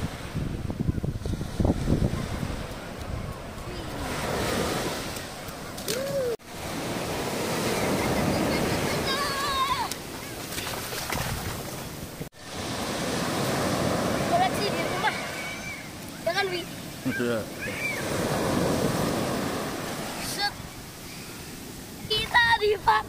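Ocean surf rolls in at Senggigi Beach on Lombok in long washes with wind buffeting the microphone, while voices talk and call out over the waves.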